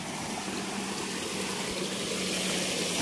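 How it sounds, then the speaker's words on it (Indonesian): Steady rushing water flows through an irrigation channel beside rice paddies, a continuous, fairly loud wash with no pauses and no voices. "oh ini air saluran."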